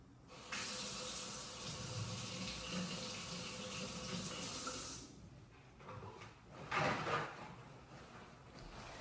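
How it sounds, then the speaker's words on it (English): Running tap water splashes steadily over an apple being rinsed under a kitchen faucet for several seconds, then stops, followed by a few brief, fainter splashes and handling sounds. "So first we're gonna start off by rinsing off our apple."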